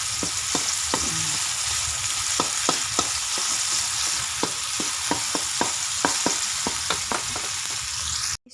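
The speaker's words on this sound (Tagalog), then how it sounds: "Ngayon naman ay gisa ko na yung mga pangkat ko sa pagsigang." Onion, tomato, ginger and garlic sautéing for sinigang, a loud continuous sizzle with frequent sharp spatula taps and scrapes against the pan in an irregular rhythm, close up with no voices.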